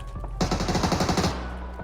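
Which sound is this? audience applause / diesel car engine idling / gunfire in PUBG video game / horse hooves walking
gunfire in PUBG video game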